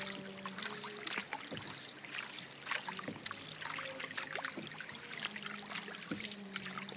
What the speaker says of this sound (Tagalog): Sagwan lang po yung gamit namin.